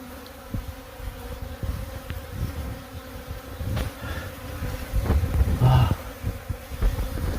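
Honeybees swarming around a removed hive, a dense close buzzing drone with individual bees whizzing past the microphone, and a voice briefly audible in the background.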